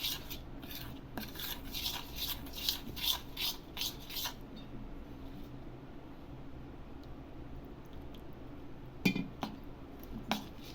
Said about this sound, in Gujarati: હવે તેમાં દૂધ વેડીને મિક્સ કરવાનું છે.